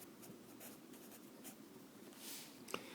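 A pen or marker writes out a math function during a lesson, with soft, faint scratching strokes over a low background hum and a small click near the end.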